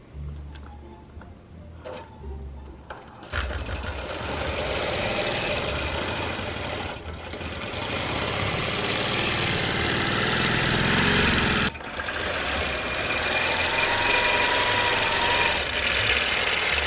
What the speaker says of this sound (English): I'm gonna sew, probably unstitch here also, and then re-sew it down and stabilize the quilt